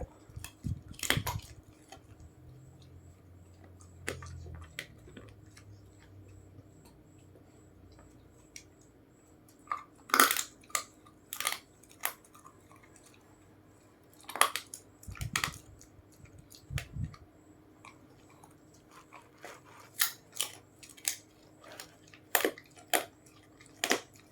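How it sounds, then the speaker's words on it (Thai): A dog of the Bangkaew mix gnaws a bone at night, with scattered sharp cracks and crunches, clustered clicks and wet squishing coming in irregular bursts, close up against a quiet background. "ชอบเคี้ยวกระดูก"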